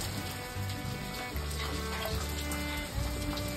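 Vegetables rinsed in water in a tribal village kitchen in Araku, with close, continuous splashing and sloshing, no voices.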